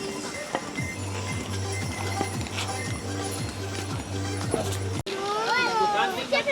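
Horses and mules clip-clop along a mountain trek path to Kedarnath in a steady rhythm of hoof strikes. Background voices and crowd chatter from other pilgrims carry on around them.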